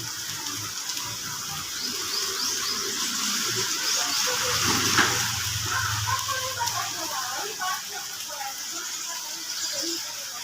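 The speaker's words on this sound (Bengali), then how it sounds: "চলো বাইরে দেখাচ্ছি কীভাবে বৃষ্টি হচ্ছে" Heavy rain falling outdoors after days of downpour, a steady broadband hiss with splashing and dripping texture that holds fairly loud across the whole stretch.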